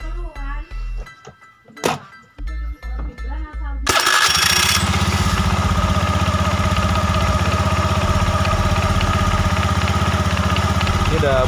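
A scooter engine, just back from a CVT service, is cranked with a few short starter pulses and a brief pause, then catches and settles into a steady, smooth, close idle.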